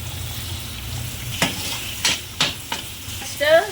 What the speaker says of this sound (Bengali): গরম কড়াইয়ে আমি একটু তেল দিয়ে নিচ্ছি কারণ পেঁয়াজ ক্যাপসিকাম আমি সব ভাজবো